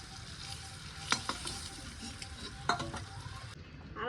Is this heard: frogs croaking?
no